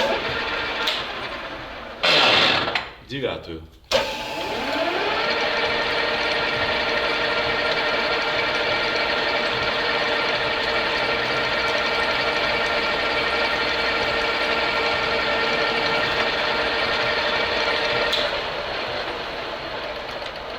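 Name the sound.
centering drill drilling a center hole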